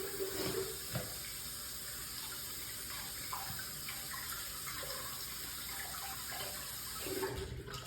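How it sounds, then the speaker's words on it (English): Water runs steadily from a tap to wet a washcloth, a continuous close splashing hiss that lasts the whole stretch with small shifts in flow. "And then now I wet my washcloth again."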